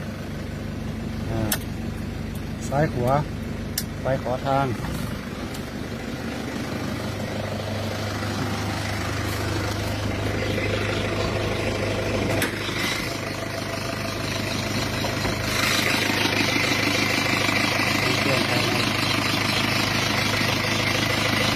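A Mangkorn Thong diesel farm vehicle cranks and starts, then its engine settles into a steady, loud, rattling idle that keeps running close by, with a few brief voices and clatter at the start.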